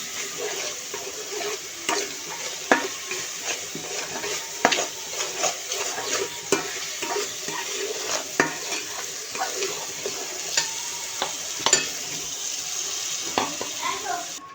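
Potatoes and vegetable stems frying in a pan with salt, turmeric, chili and coriander powder, a continuous close sizzle broken by repeated spatula stirs and scrapes at an irregular rhythm.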